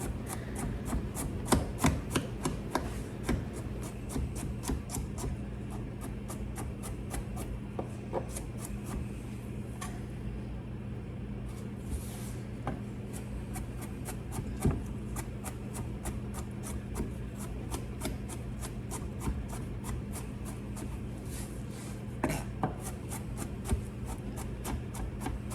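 A knife repeatedly chops garlic on a cutting board into small pieces, a steady run of close, fairly quiet taps and scrapes against a low background hum.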